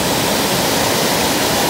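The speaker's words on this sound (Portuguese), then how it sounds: "aqui em Iporanga tem essa parte das cachoeiras" A waterfall at Iporanga beach, where it meets the sea, roars as loud, dense, unbroken rushing water, close and steady throughout with no voices.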